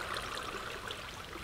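Steady rushing and splashing of a waterfall pouring over a cliff side in Minecraft, a continuous broadband hiss heard alone with no talk, moderately quiet throughout.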